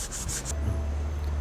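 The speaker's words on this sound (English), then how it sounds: "sanding away all the pencil marks before we actually fit the plate" Sanding timber at a door lock to remove pencil marks, a few quick rasping strokes at the start followed by low steady rumble and quiet background.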